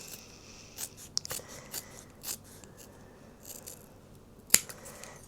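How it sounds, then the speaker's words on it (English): Scissors snip through homemade fabric tape made from fabric scraps, a few quiet, close, sharp cuts spaced irregularly, with one crisper snip near the end and soft rustling in between. "these scissors, I don't know whether it's the scissors or the tape, it's making me cut really wonky"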